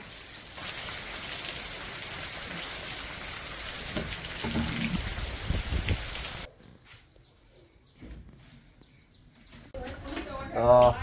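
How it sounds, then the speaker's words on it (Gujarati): Strong wind and driving rain make a dense, loud wash for about six seconds, then drop suddenly to a quieter patter with scattered bird calls and a brief louder burst near the end. "બહુ જ પવન અને વરસાદ છે"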